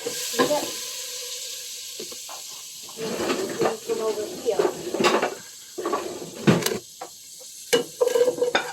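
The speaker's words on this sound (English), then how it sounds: "You can already hear the butter sizzling." Butter sizzles and hisses steadily in a hot pan, with occasional scraping clatter and a brief spoken remark over the frying.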